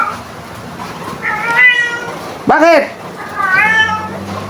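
A cat meows several times up close, drawn-out and insistent, while a person speaks briefly in between.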